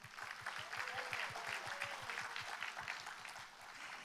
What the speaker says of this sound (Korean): 우리 학생들에게 응원의 박수